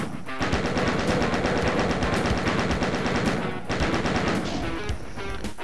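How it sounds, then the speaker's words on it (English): Chaingun in Doom: Plutonia Experiment firing at imps: continuous rapid loud bursts running almost the whole time, with one brief break and monster noises mixed in. "We'll just chain gun some of those imps while we wait."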